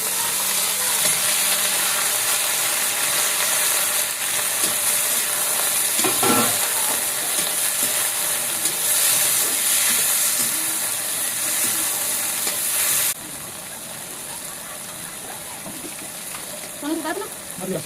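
Green chilies and potatoes frying in a home kitchen pan, a steady broadband sizzle running throughout with occasional stirring scrapes, easing to a quieter hiss near the end.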